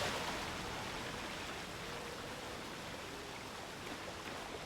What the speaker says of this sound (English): Baby waterfall?